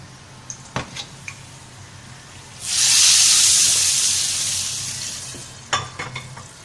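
A hot tempering (baghaar) of oil and onion goes into a pot of dal for a chicken-and-dal dish and bursts into a loud, broad sizzle that hisses for a few seconds and slowly fades, framed by light clinks of a pot and spoon.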